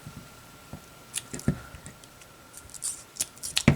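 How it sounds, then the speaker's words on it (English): Old, worn scissors whose blades no longer fully meet, cutting fabric while finishing a cross-stitch pillow: a string of crisp, irregular snips, close and quiet, with no talking. "My trash scissors are so trash, they don't even connect all the way on one side"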